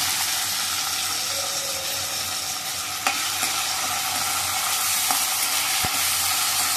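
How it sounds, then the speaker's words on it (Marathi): Chopped onion and tomato sizzling and frying in a pan, a steady loud crackle with occasional stirring scrapes and no talking. "हे चांगलं शिजवून घ्यायचं कांदा आणि टोमॅटो."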